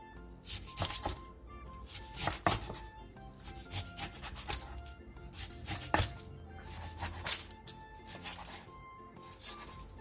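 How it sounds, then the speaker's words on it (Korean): A knife chops aged, long-fermented kimchi into 3 cm lengths on a cutting board, giving repeated sharp close thuds in an uneven rhythm with scraping and rustling between strokes, and no talk. "묵은지 4분의 1 포기를 3cm 정도 길이로 잘라주세요"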